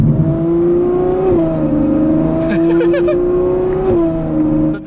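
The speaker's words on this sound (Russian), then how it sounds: "Слышно трески, понижение передачи." A Novitec-tuned Ferrari 812 N-Largo roars loudly up close, engine tone sliding down through downshifts while sharp exhaust crackles and pops burst out in a cluster mid-run.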